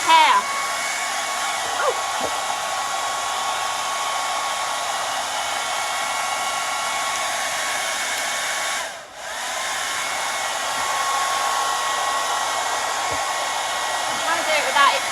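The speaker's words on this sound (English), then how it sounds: "I'm going to blow it with a hairdryer, which is going to be a bit noisy and a bit boring." A hairdryer blows steadily and close up while drying chalk paint over a stencil, a loud continuous whoosh that dips briefly midway and then resumes, with a short exclamation near the start.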